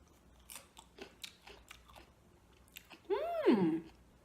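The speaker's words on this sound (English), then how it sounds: "Very crunchy. You can hear that. I mean, nobody chews like this" Close-up crunching as crisp pickled radish is bitten and chewed, a few loud crunches after quieter clicks and mouth sounds.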